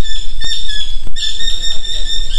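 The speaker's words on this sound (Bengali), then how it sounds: "সুন্দরবনের একটা মিষ্টি পাখি ডাকছে" A bird in the Sundarbans mangrove forest calls with high, sustained whistling notes, loud and close, repeating over a steady background with faint low rumbles.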